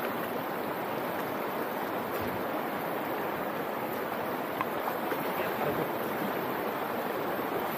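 A strong river current near an old mine area in Zambales rushes in a steady, dense, broadband roar of flowing water, continuous and fairly close with no voices.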